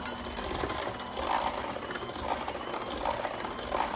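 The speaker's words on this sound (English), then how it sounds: "And I'm going to mix that until it's incorporated." An electric mixer beats vanilla cake batter as flour is worked in, giving a steady close whirring hum with a faint rhythmic rattle and no talking.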